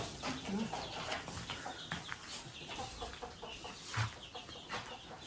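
Chickens cluck intermittently at a roadside vegetable stall in Saudi Arabia, a steady mix of soft bird calls close by with background noise and occasional voices.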